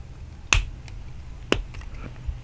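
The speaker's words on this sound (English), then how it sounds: "Pull off cap. Good sound snap." A plastic pen cap pulls off twice, each a sharp, close snap about a second apart over a quiet background hum.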